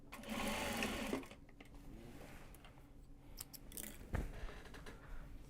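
A sewing machine runs in short bursts while top stitching Japanese fabric box bags, its quick mechanical whirr close and moderately quiet, with small clicks and handling noises between the stitching runs.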